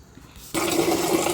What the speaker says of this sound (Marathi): नळाच्या आवाजात माझं बोलणं येणारच नाही